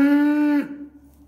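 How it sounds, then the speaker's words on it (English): A dairy cow from an organic herd gives a single loud, close moo, a steady low drawn-out call lasting over half a second before cutting off into quiet barn ambience. "I think she just moos sometimes just to moo"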